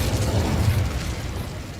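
An Incendio fire spell goes off in Hogwarts Legacy as a dense, rumbling whoosh of flame, loud and close, swelling briefly and then fading over under two seconds, with no voice.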